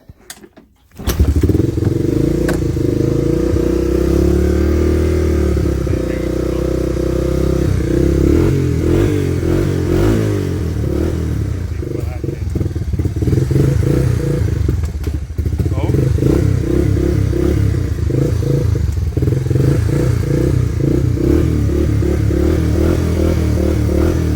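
A 1985 Honda ATC 250SX three-wheeler with a shifting fault cranks over after a second of silence and settles into a steady, loud idle that runs throughout, with a few clunks and thuds and a voice talking over it.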